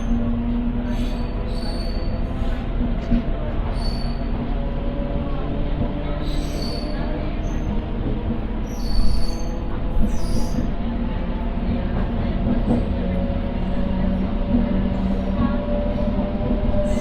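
A MEMU electric passenger train pulls out of platform 1 at Tanuku station. A steady loud rumble of wheels and carriages runs throughout, with high metallic wheel squeals rising over it.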